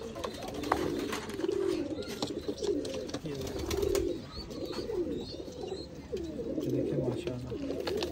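Pigeons coo close by in repeated low rolling phrases, several birds overlapping throughout, with faint background noise and no clear talk.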